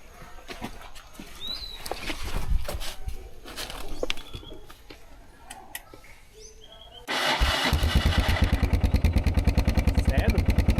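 A Yamaha Ténéré motorcycle cranks and catches on its first cold start of the morning, settling into a loud, rapid, even idle after birds chirp and brief voices are heard outdoors.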